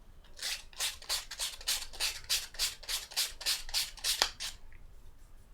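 Plywood is sanded by hand in a quick, regular series of about fifteen rasping back-and-forth strokes, close and clear with no voices, ending with a sharp tap before falling quiet.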